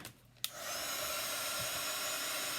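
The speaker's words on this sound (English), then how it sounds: "So I'm going to get my little dryer out." A small handheld hair dryer blows on a chalk transfer, switching on with a click and then running as a steady, close whooshing whir with no talk over it.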